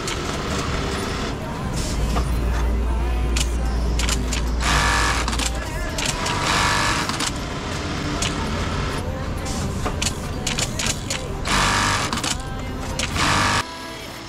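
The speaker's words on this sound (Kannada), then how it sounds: "ಆ ಲೂಪ್ನ ಹೊಲಿತಾರೆ ನೋಡಿ ಈ ಮಷೀನಲ್ಲಿ" An industrial sewing machine stitches belt loops onto jeans in a busy garment factory, making a loud mechanical whir through dense background machine noise and a steady low hum, with people speaking over it.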